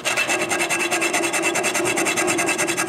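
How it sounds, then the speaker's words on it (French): A carriage bolt end being slotted by hand, a fast, even back-and-forth rasping stroke repeating about seven times a second, close and loud with no voices. "Je commence par couper une fente au bout du boulon."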